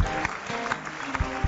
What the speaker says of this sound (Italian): un applauso a Giuseppe Conte